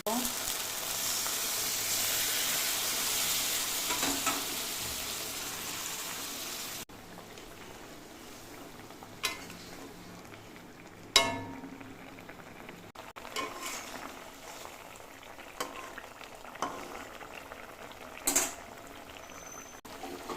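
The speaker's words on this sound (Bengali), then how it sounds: "এখন এই গরম জলটা দিয়ে দেবো।" Hot water poured into a pan of frying pomfret fish curry (jhal) sets off a loud, hissing sizzle for about seven seconds, then it settles into soft bubbling broken by a few sharp utensil clinks.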